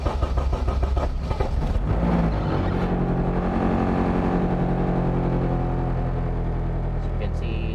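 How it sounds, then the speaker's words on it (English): A Honda K20 engine, its idle run by a PnPduino K-series ECU, cranks with a choppy rattle, catches and settles into a loud, steady, humming idle close by. "Let me start the engine."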